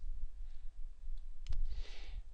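Arrow keys on a computer keyboard are pressed, giving a few quick, crisp clicks, including a close double tap midway, over a low room hum.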